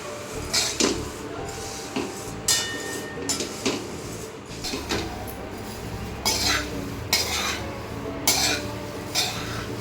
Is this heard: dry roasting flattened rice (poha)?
yes